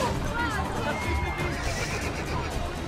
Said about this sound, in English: He's trying again with a horse attack.